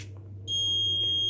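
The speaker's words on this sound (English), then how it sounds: "Alarm on, red LED." Alarm from a fingerprint-based car ignition system built on a Raspberry Pi Pico with RFID, sounding a sudden loud, sustained high-pitched electronic tone that starts partway in and holds steady over a low hum.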